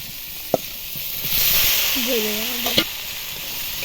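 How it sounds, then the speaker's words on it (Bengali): Sautéed okra goes into a hot pan and sizzles steadily while being stirred, with a couple of sharp utensil clicks and a brief voice partway through. "এবার দেব কষিয়ে রাখা ভেন্ডি"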